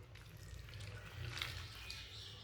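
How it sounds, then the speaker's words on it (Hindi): Hot water poured into rice flour in a bowl for roti dough, a soft, faint, steady trickle and splash lasting a couple of seconds. "अब इसमें गर्म पानी डाल लेंगे।"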